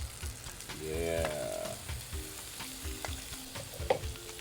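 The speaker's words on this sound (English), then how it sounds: "we're gonna get a hot cast iron pan. We're gonna add some olive oil until it's smoking, and I mean smoking hot." Scallops searing in smoking-hot olive oil in a cast iron pan, a steady close sizzle with some stirring and clinking, no voices heard.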